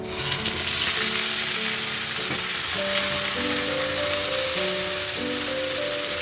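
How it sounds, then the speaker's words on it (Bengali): Ginger, garlic, onion and tomato paste fries in a hot pan for a fish curry, giving a loud, continuous close-up sizzle with faint tonal hum beneath and no talking. "মশলাটা ভালো করে কষিয়ে নিতে হবে"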